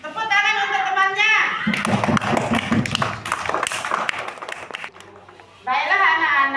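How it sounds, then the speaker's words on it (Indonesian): A classroom of children bursts into loud clapping for a classmate, a dense patter of hands lasting a few seconds, with a voice speaking before it and a teacher's voice after. "Tepuk tangan untuk temannya."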